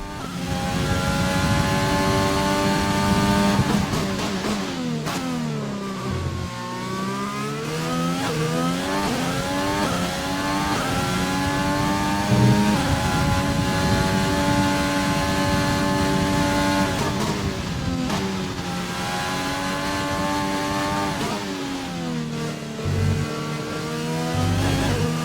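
An F1 car engine in F1 2020 screams through a racing lap, climbing in pitch through each gear and dropping sharply on every upshift or braking zone, loud and continuous with no talk.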